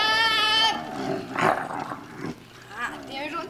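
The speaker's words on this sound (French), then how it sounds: "Ah, t'es un gentil chien, c'est ça," A sleepy dog whimpers and gives a low growl as it is roused from a nap, short whiny vocal sounds at close range mixed in with a person's gentle talk.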